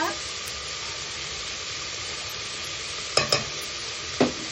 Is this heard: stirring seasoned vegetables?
yes